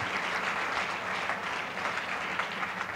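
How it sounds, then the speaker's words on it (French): A church congregation in Chicago breaks into loud, sustained applause, a thick, even roar of clapping from many hands that carries on without pause. "Put your hands together."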